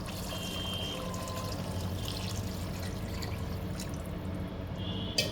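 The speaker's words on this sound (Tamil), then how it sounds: "இதில் 1 செம்பு நம்ம தண்ணியை ஊற்றி இதில் நல்லா வேக விடுறோம்" Water poured into a pot of jeera samba rice for Ambur chicken biryani, a steady close pouring and trickling sound that runs continuously throughout, with no talk.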